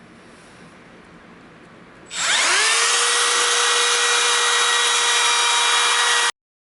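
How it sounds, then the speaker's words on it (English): A Makita cordless router with a quarter-inch round-over bit spins up and cuts along a walnut table edge, a loud steady high whine starting after two seconds of quiet and holding until it stops abruptly. "Now I'm going to take, in this case, my Makita cordless router"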